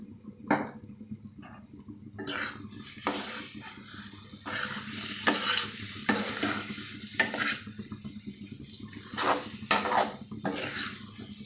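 A spoon scrapes and stirs boiled eggs through onion masala in a pan, with repeated clattering strokes in an uneven rhythm over a soft sizzle, close and moderately loud, with no talk.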